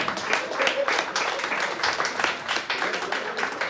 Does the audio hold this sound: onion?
no